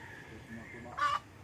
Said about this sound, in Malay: Ayam hutan ke apa ni?